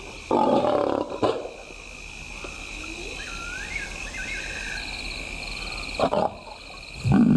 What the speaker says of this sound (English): The big lioness begins the trek back for her cubs, but the youngsters have heard her call